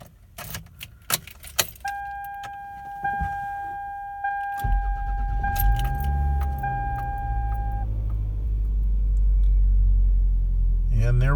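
A car that has been sitting unused is started: keys jingle and click, a chime pings repeatedly, then the engine cranks, catches and settles into a steady low idle rumble close by.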